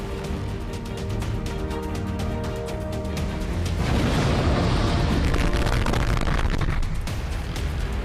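Cluster missile bomb explosion in CCTV footage from Israel, a continuous noisy rumble that swells into a louder, denser roar partway through, with steady background noise throughout.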